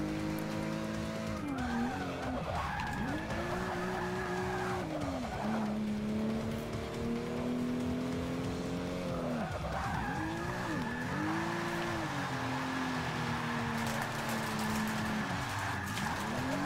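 Car drifting in Forza Motorsport 6: Apex, with long sustained tire squeals rising and falling over a droning engine, loud and continuous for the whole stretch without talk.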